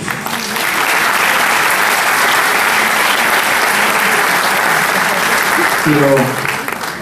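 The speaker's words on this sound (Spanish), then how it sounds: "para quien pido un voto de aplausos" An audience applauds at a Tuna Mayor San Cristóbal de Huamanga gathering in tribute to its late founding president, a dense, steady wash of clapping that holds loud throughout, with a brief voice rising near the end.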